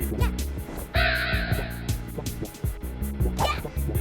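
Owls in the game A Hat in Time let out harsh, repeated cawing hoots over a busy game music backdrop, including one longer screeching call, with a voice briefly heard.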